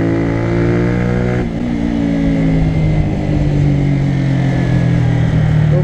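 A Honda CBR125R motorcycle engine held at high revs, a steady loud mid-pitched drone with a quick gear-change dip early on, then continuing to climb in pitch without any talking.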